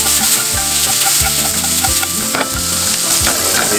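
Shrimp sizzle and fry steadily in a hot pan for Mexican tacos, a loud continuous crackle with no talking.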